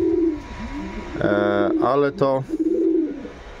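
Pigeons cooing in a pigeon loft, a few soft, close, rolling coos alongside someone speaking.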